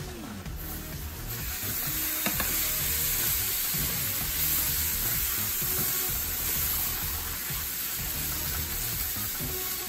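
Rice sizzling and frying in a pan with corn while mole is being prepared, a steady dense hiss that runs loud and continuous throughout with faint stirring under it.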